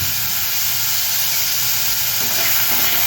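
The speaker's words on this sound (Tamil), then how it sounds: "கருவேப்பிலையை ஆட் பண்ணிக்கோங்க." Curry leaves sizzle in hot oil with onion and tomato for a mutton kola urundai kulambu, a steady close hiss and crackle holding evenly throughout with no voices.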